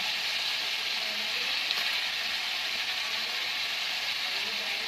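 Tomatoes added to frying chicken karahi in a pan of hot oil, giving a steady, dense sizzle that holds at an even level throughout with no talk.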